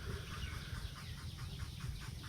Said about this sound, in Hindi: मुर्गा की लड़ाई आपने देखा, दोनों मुर्गा वाला मुर्गे के पैर में एक एक छुरी बांध देता है